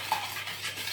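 Eggs being stirred into warm melted chocolate batter for a fondant, a brief close scraping and stirring with a small clink of utensil against the bowl.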